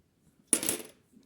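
A quick metallic jingle of 2 euro coins spilling as coin rolls are unpacked, one short bright burst in an otherwise quiet room, close and fairly soft.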